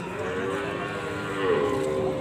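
Limousin cross cattle lowing at a busy cattle market in Kragen, a long drawn-out moo rising over steady crowd and livestock murmur, fairly close and continuous.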